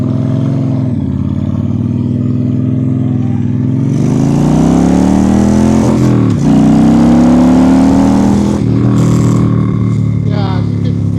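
A car drives past close by, its engine note rising and shifting in pitch as it accelerates away, loud against a steady idling engine nearby.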